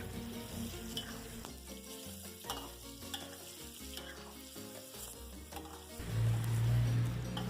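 Eggplant frying in oil in a wok while being turned and stirred, with a soft background sizzle broken by repeated scraping stirs and a louder burst near the end; no voices.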